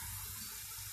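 Water rushing into the drum of a Maytag 10kg washing machine at the start of a 95°C cotton wash with intensive rinse, a steady loud close hiss with no voices.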